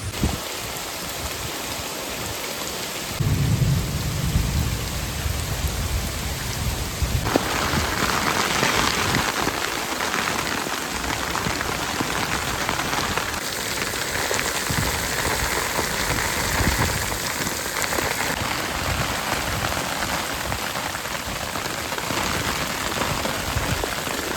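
Steady heavy rain pours down in a continuous wash of noise, loud and close, with no distinct thunderclap standing out.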